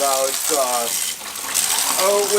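Water runs steadily from a faucet, filling a container with warm water from a home water heater to make yogurt. The rushing flow stays loud throughout while a person talks over it.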